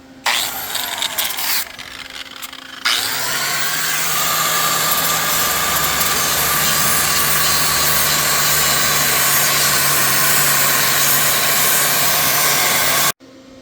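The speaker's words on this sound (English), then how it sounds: "I gotta clean it up with the grinder." An angle grinder with a flap wheel cleans rusty metal during a trailer spring change. It spins up after a brief lead-in and holds a loud, steady whine with rough grinding for about ten seconds, then cuts off abruptly.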